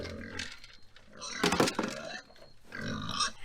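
Farm pigs give low, rough grunts in several bursts, one louder, harsher cluster in the middle, heard fairly close and fading in and out between calls.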